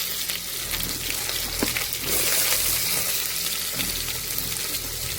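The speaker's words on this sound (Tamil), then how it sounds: "வெங்காயம் அடுத்து கருவேப்பிலை சேர்த்து நல்லா வதக்கி விட்டுருவோம்." Steady sizzling and crackling of onions and curry leaves sautéing in a hot pan, with occasional stirring clatter, close and continuous.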